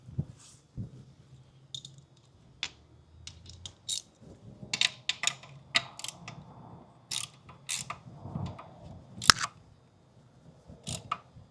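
A hand ratchet tightens size 14 transmission bolts on an 8th-gen Honda Civic Si with a K20Z3 engine. It gives bursts of close, crisp clicks with pauses between them, along with metallic clinks and handling noise.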